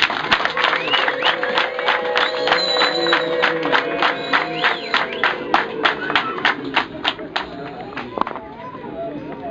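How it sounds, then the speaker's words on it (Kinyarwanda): Rhythmic clapping from a gathered crowd, steady and fairly loud, with a voice speaking over it and the claps thinning toward the end. "nawe umubera amashyi."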